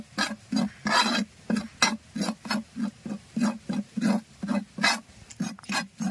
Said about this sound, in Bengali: পোস্ত আমি হালকা করে ভেজে নেব